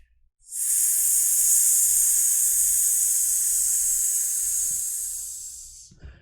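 Voice imitating a snake's hiss with a long, sustained S sound during a guided team meditation, one steady loud hiss lasting about five seconds that fades slightly before stopping.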